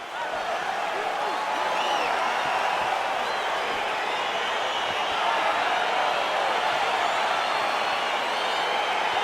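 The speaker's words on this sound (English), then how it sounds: "crowd getting excited as this fight gets underway" A video-game arena crowd at a UFC 4 fight makes a steady, loud roar of cheering and murmuring that holds through the whole stretch, with no clear applause peaks.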